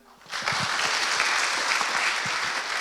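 An audience at a Hindi church assembly breaks into steady, full applause after a sung worship song, the clapping rising quickly and holding evenly with a few voices mixed in.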